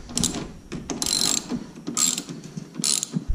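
A ratchet wrench turns a 7mm bolt out of a Saturn Sky fender in short bursts of rapid, close clicking with brief pauses between strokes.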